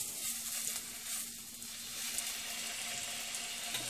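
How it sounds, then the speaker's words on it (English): Pieces of pork hit a hot pan and sizzle, a steady close hiss and crackle of frying meat that continues without pause. "you want to have a sizzle for sure"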